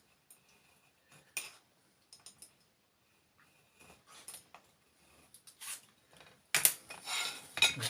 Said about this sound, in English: I'm going to get my knife. I think it's going to cut through that okay.